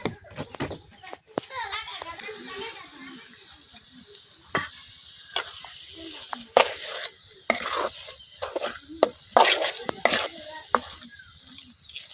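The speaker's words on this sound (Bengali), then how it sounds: "কচু শাকটা আমি অনেকক্ষণ নাড়াচাড়া করে অনেকটা টানাই নিচ্ছি, এখন দিয়ে দেন ভাজা রাখা চিংড়ি মাছগুলা" Taro leaves with fried shrimp are stirred in a sizzling pan in a village kitchen, with scraping spatula strokes and clatter over steady frying. Children's voices and talk are heard in the background.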